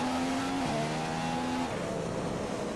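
A McLaren Formula 1 car in the F1 2015 racing game at Spa, its high engine whine holding steady then stepping down through gear shifts, loud and close with no talking.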